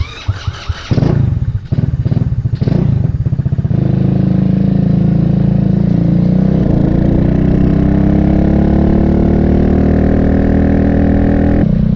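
A Vader 125 motorcycle, a Grom clone fitted with a new exhaust, starts with a few sputtering bursts, then settles into a loud, steady running engine note that rises gradually; no talking over it.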